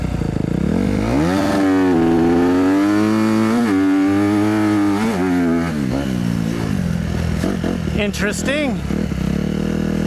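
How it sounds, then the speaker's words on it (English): 2019 dirt bike engine, Honda CRF250RX or Yamaha YZ250FX, revving hard with pitch rising and falling, repeatedly hitting the rev limiter with stuttering cut-outs; loud and close, with a brief spoken word near the end. "You could definitely hear that kind of cut out, kind of hit the rev limiter a little quicker."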